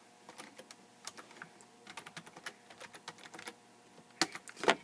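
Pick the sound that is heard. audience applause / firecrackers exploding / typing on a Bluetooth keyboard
typing on a Bluetooth keyboard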